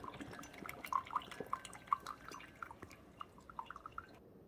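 Concentrated coffee drips steadily from a Ninja Coffee Bar CF082 coffee maker, a series of small, close, irregular plinks landing one after another with no voices.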